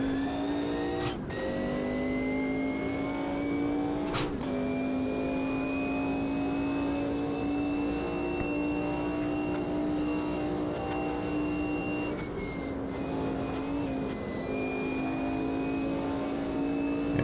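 Mercedes Group C race car in Automobilista 2, the engine holding a loud steady high-pitched drone at speed, with a couple of brief gear-change blips early and a dip and recovery near the end, no voices.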